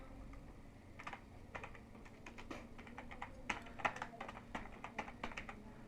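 Fingers typing on a computer keyboard, a quiet close run of irregular key clicks coming in quick bursts with short pauses between them.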